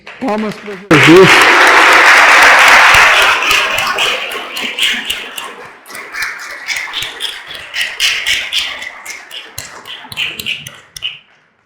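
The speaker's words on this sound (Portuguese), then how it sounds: "Palmas para Jesus." A lecture audience bursts into loud applause after a brief spoken line, steady clapping that gradually thins into scattered, separate claps as it fades.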